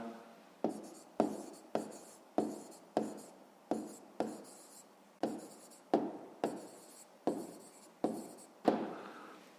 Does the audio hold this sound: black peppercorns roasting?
no